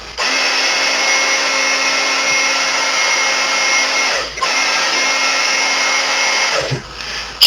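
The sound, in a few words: heat gun heating Talon Grip on S&W SD40VE pistol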